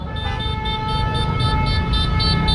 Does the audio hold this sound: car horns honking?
yes